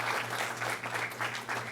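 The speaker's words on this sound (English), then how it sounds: "Please give a welcoming applause to His Excellency." An audience claps to welcome a speaker at a formal tribute honouring a legal figure, a steady wash of many hands with gentle surges, moderately loud and continuous throughout with no voices over it.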